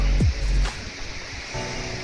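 Kuthumkal Falls, a small waterfall near Munnar in Kerala's Idukki district, carrying only a little water, gives a steady broadband rush. A loud close thump and whoosh near the start drowns it briefly, and no one speaks.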